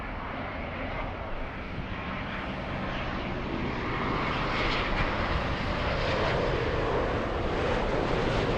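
A fixed-wing airliner lands at Los Angeles airport, its engines giving a broad, steady roar that swells slightly louder toward the end, heard from a distance with no talk.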